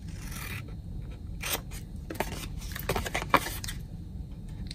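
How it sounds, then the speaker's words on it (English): Scissors snip through a paper template for a small tote bag, giving a run of soft rasping cuts with a few sharper snips, up close and steady, with no voices. "And then cut up to the score line, and then I'm going to remove, and then trim and trim."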